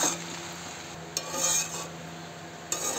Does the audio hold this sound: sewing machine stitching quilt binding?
no